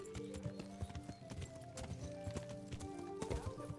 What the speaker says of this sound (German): Deswegen, ne, Katanka, kannst schon mal hier ein bisschen schnell nach Thalmberg reiten üben.